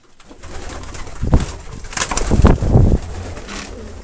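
Pigeons in a loft, a mother bird with her chick in the nest, giving soft close cooing calls with a brief rustle of wings; no talking.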